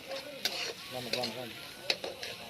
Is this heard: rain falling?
no